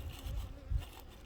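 Honey bees buzzing around an open backyard hive after a storm and heavy rain, a faint close hum with a couple of brief louder passes of individual bees.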